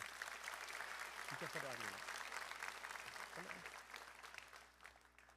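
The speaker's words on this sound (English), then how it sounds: "A round of applause for Isaac Poe" An audience at a high school class night applauds a student valedictorian, a faint, distant spread of clapping, with a voice briefly speaking partway through before the applause thins out.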